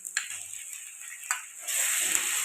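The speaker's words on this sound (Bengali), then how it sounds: "এবার রসুনগুলোকে একটু ভালো করে কষিয়ে নেবো" Garlic paste frying in a pan after onions, a soft sizzle with light scraping and ticking of a spoon against the pan, growing into a steady louder hiss near the end.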